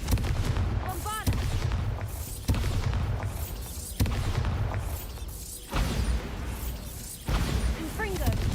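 Bombarda spell explosions in Hogwarts Legacy, a series of loud, heavy blasts landing about every second and a half, each with a sharp attack and rumbling decay amid game combat sounds.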